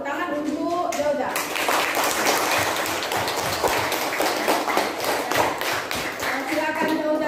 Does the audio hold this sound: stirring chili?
no